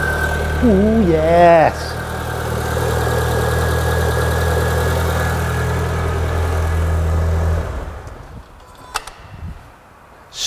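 A Renault Clio 182 engine cranks briefly and catches, then settles into a steady idle that runs for several seconds before cutting off. A voice speaks briefly over the start.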